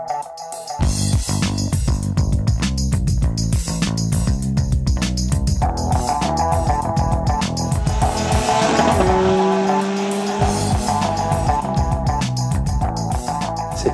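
A Formula Renault 2.0 single-seater race car at speed, its high-revving engine screaming close and loud, pitch climbing and dropping through quick gear changes, with a brief tire squeal.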